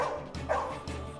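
A dog lets out a few quick barks, close and moderately loud, in a brief burst inside a household scene.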